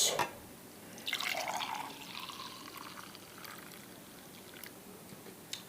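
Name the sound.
pouring Starbucks-style hot chocolate into mugs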